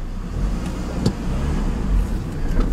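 A 2001 GMC Sonoma pickup with a replaced 2.2L engine drives at night with its hood removed, its engine and road noise forming a steady, close rumble with a brief louder knock partway through.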